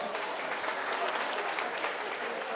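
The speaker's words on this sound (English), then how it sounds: "Give them a round of applause." Sustained applause from a conference audience at a meeting-professionals session, a steady, dense wash of many hands clapping at moderate volume throughout, with no individual voices standing out.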